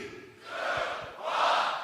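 Crowd at a Grand Beatbox Battle cheering and shouting, a swelling roar that rises twice over under two seconds, with a few low thumps.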